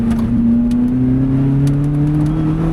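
A Lotus Elise engine drones steadily from inside the car while driving a road at speed, a smooth low hum with pitch slowly rising as it accelerates, continuous and fairly loud.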